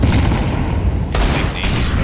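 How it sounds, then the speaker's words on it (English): A large grenade detonates in a Counter-Strike match, a loud, dense burst of gunfire-like crackle and boom filling the whole moment, with a sharp second impact partway through and a caster's voice faintly underneath. "Yeah, very big nade."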